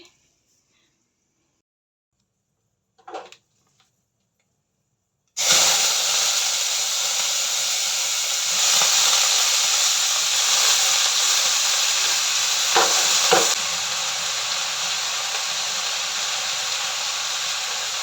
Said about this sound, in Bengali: তো এদিকে আমি কবি ভাজা বসাবো